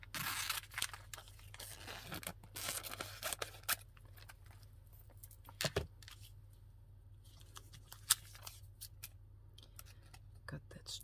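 Scissors snip through thin plastic packaging being trimmed into a window for a junk journal specimen card, close and quiet, with crinkling and rustling handling noises between cuts and soft whispery sounds.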